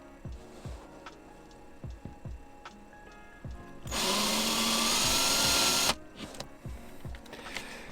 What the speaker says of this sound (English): what I'm doing here is actually I'm gonna pre-drill